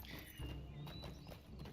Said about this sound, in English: But you do move faster, I believe, on your combat horse.